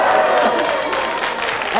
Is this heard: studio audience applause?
yes